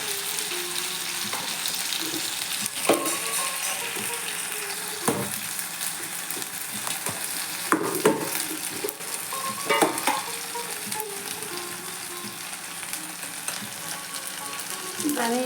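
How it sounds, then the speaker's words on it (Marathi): Ginger-garlic paste frying with softened onions in a pan, a continuous sizzle with clinks and scrapes of stirring, no speech over it. "आता कांदा थोडा नरम झाला, अद्रक लसणाची पेस्ट टाकूया।"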